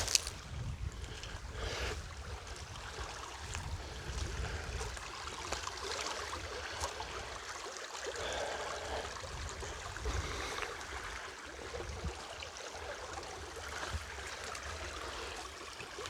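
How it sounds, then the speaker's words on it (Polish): Small stream flowing beside the Tudorów tower at night, a steady broadband rush of running water that stays at an even level throughout, with occasional low rumbles of wind and handling noise. "Obok strumyk płynie"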